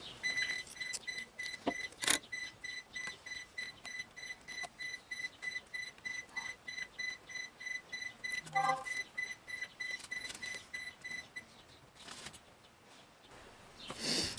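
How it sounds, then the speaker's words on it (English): A smoker grill beeps, repeated high electronic beeps in a steady pattern, fairly faint, over a constant background hum with a few clicks and knocks. "And the grill is beeping."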